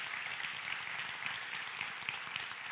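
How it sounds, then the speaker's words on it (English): Audience applause at a conference talk, a steady dense wash of clapping from a crowd that holds even throughout with no voices over it. "they deserve an applause"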